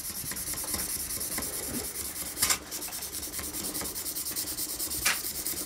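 A kitchen knife blade is ground thin, producing a continuous, even abrasive rubbing and rasping with a faint rhythmic pulse and a couple of brief louder scrapes, close and steady.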